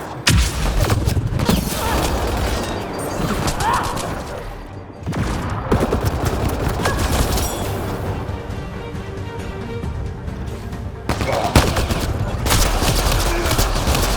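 Dense gunfire and explosions from the video game Mass Effect: Andromeda rattle loudly and almost without pause, with thuds and booms mixed in and voices talking over the combat.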